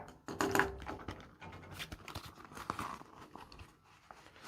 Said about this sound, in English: Just remove everything from the plastic bag.